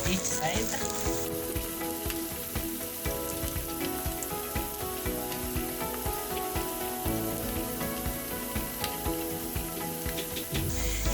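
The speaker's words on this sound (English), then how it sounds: "we're going to fry them till for one minute on both each side." Plantain slices fry in hot oil with a loud, dense, continuous sizzle and crackle, steady and close throughout with no pauses. No one talks.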